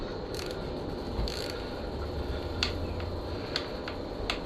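A ratchet clicks as the bottom fork pinch bolts of a Honda CRF450 dirt bike are cracked loose during a steering stem service, with a few short, sharp bursts of metallic clicking up close over a steady background hum.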